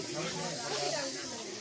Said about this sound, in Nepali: त्यो चाहिँ आगो बोल्दैछ